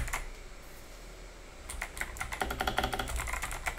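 Keys clatter on an 8BitDo keyboard fitted with NK Arrow switches. A quiet stretch comes first, then a quick burst of close, crisp keystrokes that speeds up toward the end, with no one speaking.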